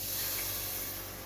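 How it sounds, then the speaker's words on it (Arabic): Water poured from a cup into a preheated cooking pot holding Egyptian rice, giving a steady, close hissing sizzle that fades slightly toward the end, with no talking. "هحط عليهم كوبايتين ميه"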